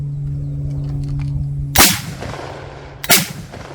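A Johnson rifle fires two sharp, loud shots about a second apart, each with a short echoing tail, after a faint steady hum.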